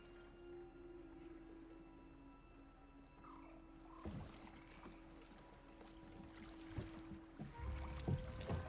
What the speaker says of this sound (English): I do like the boat paddling in here.